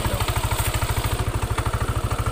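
A motorcycle engine idles with its headlight switched on, giving a steady, fast, low rhythmic pulse with a clattering knock running through it, close and loud with no talk.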